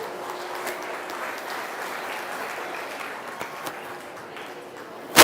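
An audience at a fair goat show applauds the breeding and market goat exhibitors, giving a dense even patter of clapping that holds steady throughout, with faint voices mixed in.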